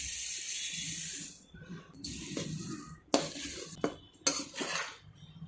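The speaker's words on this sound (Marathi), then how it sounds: "आणि याच्यामध्ये परतलेले मुरमुरे टाकून घेऊयात" Roasted puffed rice tipped into a pot for coloured laddoos, with green food colouring, is stirred with a spoon. A soft rustle gives way to sharp, close clinks and scrapes of metal against the pot in uneven bursts.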